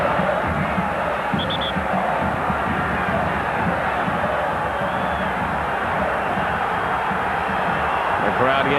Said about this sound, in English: The crowd getting into it now.